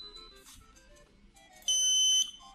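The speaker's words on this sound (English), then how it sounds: "your buzzer will go on and the red LED will light up" After a stretch of quiet clicking and faint background tones, a loud, flat electronic wrong-answer buzzer sounds for about half a second and then cuts off.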